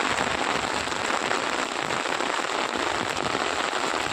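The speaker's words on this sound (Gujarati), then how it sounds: "બધી બાજુ વરસાદ વધારે પડી ગયો છે" Heavy rain falls steadily over farm fields in Banaskantha, a dense, loud, continuous hiss of drops hitting the ground and standing water, with no voices.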